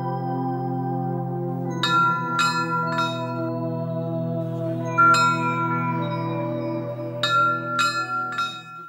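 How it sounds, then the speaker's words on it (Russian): Small bell at a mountain monastery on the climb toward Cho Oyu, struck several times in uneven clusters, each bright ring decaying slowly into a sustained hum; no voices. "на монастыре колокольчик"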